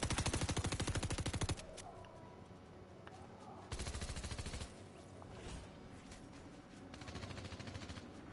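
Rapid automatic gunfire from a video game comes in two loud sustained bursts, each lasting over a second, with quieter scattered shots and game noise between them.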